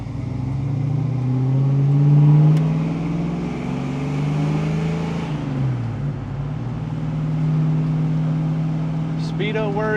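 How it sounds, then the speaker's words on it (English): A 1971 Chevrolet Camaro SS 396 with a 4-speed gearbox runs steadily at close range, its V8 tone rising through a gear, then dropping sharply as it shifts before settling into a lower, even drone, with a voice heard over it. "Gearbox feels nice, going down through the gears, good and easy."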